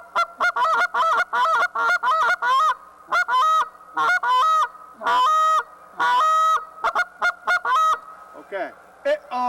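A goose call blown by hand to mimic geese, a rapid series of sharp honking greeting notes followed by longer drawn-out moans, close and clear with short pauses between.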